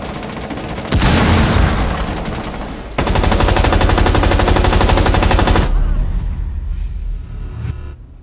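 Rainbow Six Siege match on the Kanal map: loud, close bursts of rapid automatic gunfire, one long sustained burst after a brief one, then fading into quieter distant shots.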